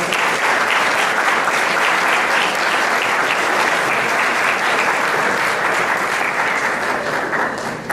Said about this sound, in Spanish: Un fuerte voto de aplausos para él.